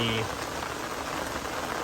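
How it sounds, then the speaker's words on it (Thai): Heavy rain falling in large drops during a fishing trip on the Pa Sak River, a dense steady hiss of drops close by, with a brief tonal sound at the very start. "ฝนลงเม็ดแล้ว"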